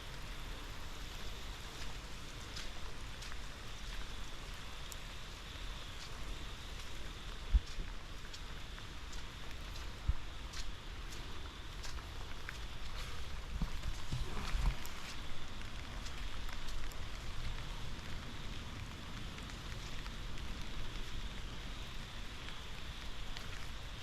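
Rain falls steadily in Chiang Mai during the wet season, a continuous even hiss of drops on surfaces with a few faint taps, moderately loud and unbroken.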